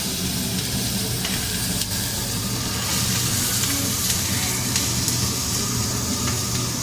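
Vegetables stir-frying in hot oil, a continuous loud sizzle and hiss with occasional sharp crackles and pops as the pan is worked, close up and steady throughout.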